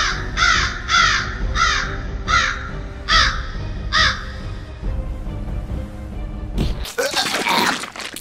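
A crow caws six times in a steady rhythm, fairly near, over outdoor background noise, followed by a brief burst of broadband rustle.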